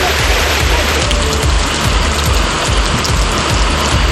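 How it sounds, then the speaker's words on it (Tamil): Heavy rain pours steadily over open ground in the Thalavadi area near Sathyamangalam, Erode district, a dense, loud, continuous hiss with low drumming spatters throughout and no voices. "1 மணி நேரத்திற்கு மேலாக கனமழை"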